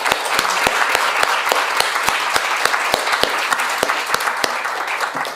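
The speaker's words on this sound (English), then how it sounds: "let's give another round of applause." Audience applause at the 55th AICA International Congress in Kraków, dense steady clapping from a conference crowd lasting several seconds with sharp individual claps standing out, close and fairly loud.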